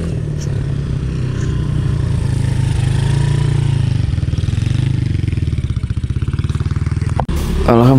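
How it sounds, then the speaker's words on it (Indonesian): A Thunder motorcycle's engine running nearby on a morning ride near Mount Bromo, a steady low rumble with rhythmic pulsing that grows louder toward the end, ending in a sharp clatter and rising tone. "Nah, ini motor Thunder."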